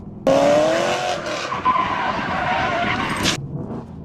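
A Ford Mustang with traction control fully off spins its tires on a dry road, a loud close engine roar mixed with rising tire squeal that cuts off abruptly after about three seconds.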